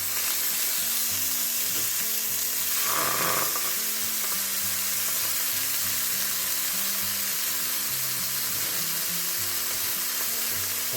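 Scallops sizzle loudly in a frying pan while being turned over, a constant dense hiss with a brief stronger flare partway through as a piece is flipped, close and with no talk.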